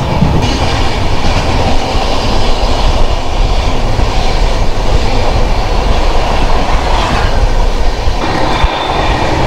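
Bhubaneswar–New Delhi Tejas Rajdhani Express train passing at speed, a loud continuous roar of wheels with rhythmic clickety-clack over the rails and no voices.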